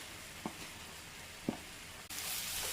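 Grated coconut is sautéed with jaggery filling in a pan for ela ada. A soft, steady sizzle is broken by two faint stirring scrapes, then the sizzle rises brighter at the end. No one speaks.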